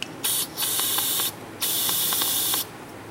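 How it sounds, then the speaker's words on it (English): Brake cleaner sprayed from an aerosol can through a tip into a snow blower carburetor, in two long hissing bursts with a shorter burst at the start and brief pauses between, close and loud. "for good measure, we're going to get some brake clean in there"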